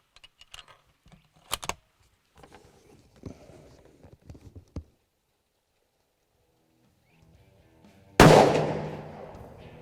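A rifle fired at an exploding target: a sharp loud blast near the end with a long decaying rumble, after scattered quiet clicks and handling sounds.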